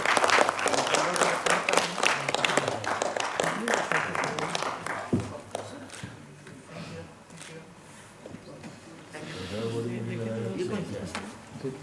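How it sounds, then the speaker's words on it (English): Audience applause at a medical conference session, loud clapping from many people for several seconds that fades out, followed by someone speaking over the quieting room. "Can we have a round of applause, please?"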